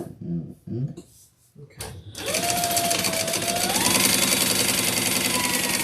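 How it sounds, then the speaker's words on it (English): A sewing machine stitching the sides of a Lola handbag runs in a steady, loud, continuous whir with a faint rising tone, after a few brief clunks and short pauses at the start. "I'm going to stitch 3 sides"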